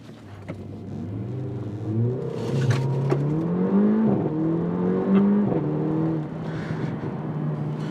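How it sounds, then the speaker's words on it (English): A 2016 Mercedes-Benz A45 AMG accelerates hard from a full race start, its engine note climbing through several gear changes in a loud, steady rising pattern, heard from close by with no talking. "And none more so when you do a full race start."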